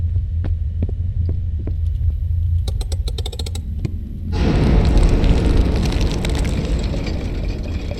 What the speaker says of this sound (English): So we blew the wall